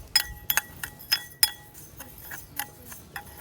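A spoon stirs coffee and sugar together in a glass bowl for homemade vanilla essence, giving a series of light, bright clinks and scrapes at an irregular rhythm, close and clear.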